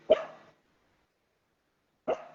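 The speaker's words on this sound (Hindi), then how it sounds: "कुत्ते भौंकना शुरू हो गए, अभी आवाज सुन रहे होगे आप" Dogs bark twice in a quiet street at night, a short single bark followed by a second after a pause of almost two seconds, moderately distant, with no talk.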